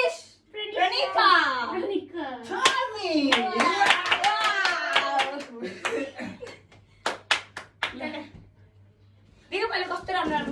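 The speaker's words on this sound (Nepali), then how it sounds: "हामी ताली क्ल्याप गर्छौँ" Children clap their hands during games with siblings: a short burst of sharp, close claps lands between stretches of excited child chatter and a little laughter.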